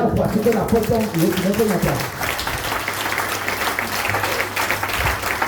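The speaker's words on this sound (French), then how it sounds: "Acclamons le Seigneur" A church congregation at a worship service breaks into applause for the Lord, a dense wash of clapping mixed with voices and shouting from the crowd, loud and sustained throughout.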